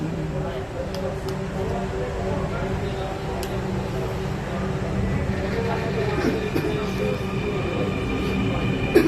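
A metro train rolls along with a steady rumble and whine, punctuated by a few faint clicks and squeaks, continuous for the whole stretch.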